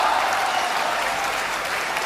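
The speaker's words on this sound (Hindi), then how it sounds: "हाँ, तालियां थोड़ी कम थी" Audience applause at a Hindi comic poetry gathering, a steady wash of many hands clapping at moderate loudness, continuous and even throughout with no voices over it.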